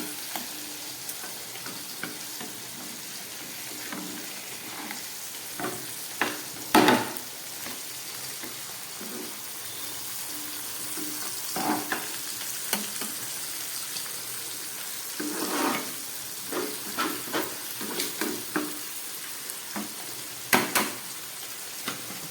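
Spice-coated pomfret fries in a covered pan over very low heat, giving a steady soft sizzle broken by scattered crackles and a few sharper knocks of pan or lid, with no talking.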